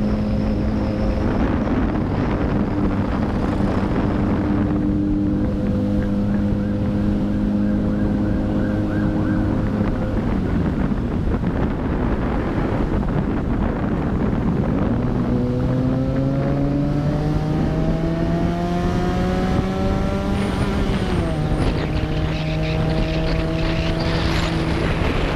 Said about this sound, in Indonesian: mesin motor bakal berubah dan suaranya jadi lebih menggelegar